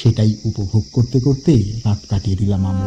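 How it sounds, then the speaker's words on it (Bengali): Night crickets in the hills at Tukvar near Darjeeling keep up a steady high chirring in the background while someone speaks close by in the foreground. "চারিদিকে ঝিঝি পোকার ডাক আর ঘুটঘুটে অন্ধকার"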